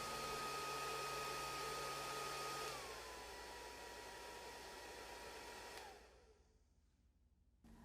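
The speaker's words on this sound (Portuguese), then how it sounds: "quando ligamos o secador, o vento é canalizado para dentro do tubo" A hair dryer blows air into a glass tube in a fluid mechanics demonstration, a steady loud whooshing roar that drops in pitch partway through and then cuts off, leaving quiet.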